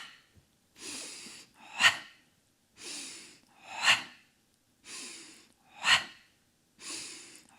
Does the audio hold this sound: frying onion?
no